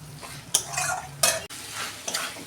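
Kochur loti (taro stolons) sautéing in a pan, with a steady close sizzle broken by several scraping stirs of a utensil against the pan and no voices.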